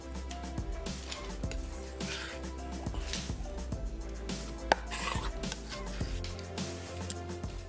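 Chopped onion tipped into about a quarter cup of hot oil in a pan and stirred for a minced-meat samosa filling, with clattering utensil scrapes and knocks over a steady background hum, no talking.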